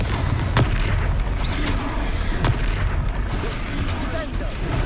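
Blasting spell explosions in the Hogwarts Legacy video game during a magical duel, with sharp booming bursts amid a dense, loud battle din of effects and voices.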